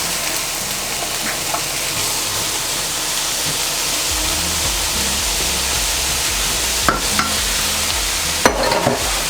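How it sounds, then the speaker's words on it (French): Vegetables sauté in a pan with a little fat for a beef and peanut curry, giving a steady close sizzle throughout, with a few sharp utensil clinks and stirring scrapes near the end. "Ensuite, on rajoute nos légumes."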